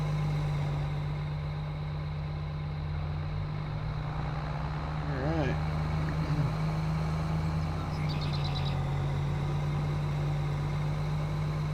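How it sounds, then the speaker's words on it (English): A Case combine harvester idles on a mild, snowy day, its steady low engine drone running continuously throughout, with a man's brief spoken remark over it. "We've had the case sitting here idling, so she's nice and warm."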